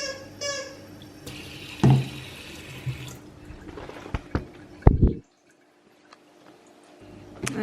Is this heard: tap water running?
yes